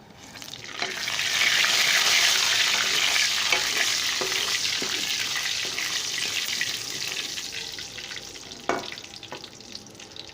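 Cumin seeds sizzle steadily in hot oil for a home-cooked dal chawal, a bright continuous crackle with a few stirring scrapes and clinks near the end, close and moderately loud.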